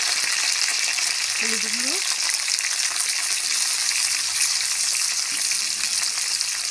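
Taro (kochurmukhi) frying in a pan gives a steady, close hiss of oil that runs the whole time, while a brief voice speaks over it near the start.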